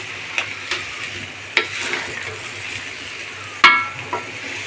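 Spices for a large batch of mango pickle are stirred in a pan, with a soft steady frying hiss and a few scattered scrapes and clinks of the spoon against the metal, one louder knock near the end.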